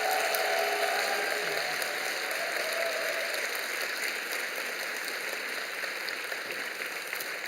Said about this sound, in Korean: 돌아서서 교우들에게 인사하실 때 큰 박수로 격려해 주시기를 바랍니다